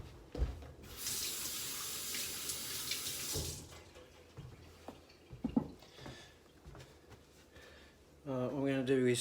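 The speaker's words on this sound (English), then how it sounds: "rinse my hands." Kitchen tap water runs steadily as hands are rinsed under a sink faucet for about two seconds before a cooked slow-cooker lamb meal is prepared, followed by clinks and a voice talking near the end.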